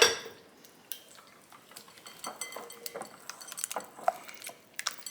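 Softened butter being stirred into muffin batter in a bowl, with close clinks and scrapes of a utensil against the dish at an irregular pace, quiet and without voices.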